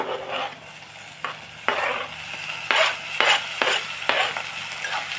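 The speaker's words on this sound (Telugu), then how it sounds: "టమాటాలు కూడా వేసుకుని చాలా కలిపేసుకుని మూత పెట్టేసుకుందాం" A spatula stirs a tomato and cauliflower curry in a pan. Six or seven distinct scraping strokes come in a loose rhythm over a low sizzle, close by, with no voices.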